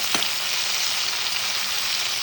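Okra and tomato sauté in hot oil in a pan for Kerala-style sambar, giving a loud, steady sizzle with a brief stirring scrape near the start.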